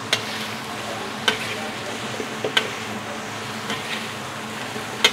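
Chicken capcay stir-fries in a pan with a steady sizzle, broken by occasional sharp knocks of a utensil against the pan, close by.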